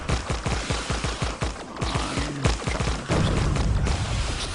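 Slow-firing weapon shots with line-of-effect damage in a video game land as a rapid series of heavy thumping blasts, close and punchy, followed by a denser rumbling burst.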